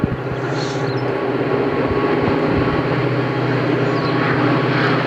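Pakistan Railways locomotive 8220 passes close by hauling a train, producing a loud, continuous thundering engine rumble with rhythmic clanking from the rails.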